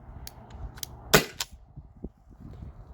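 A Byrna SD launcher fires a 3.7 gram salt round: one sharp, loud pop with a short tail, standing alone over low background noise, followed by a faint softer tap.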